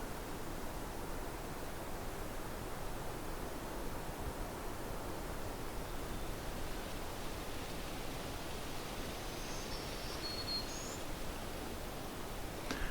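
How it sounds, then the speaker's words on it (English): A soft, steady wash of broadband noise from lake waves lapping and wind, faint and unbroken, with a few tiny bird chirps far off. "You can hear the sound of the lake in the background,"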